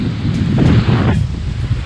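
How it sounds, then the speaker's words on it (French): Wind roars in heavy gusts against the microphone with a rushing wash of water and rain from a squall at sea during an ocean sailing crossing, loud and close throughout. "on a un petit grain qui nous arrive sur la gueule"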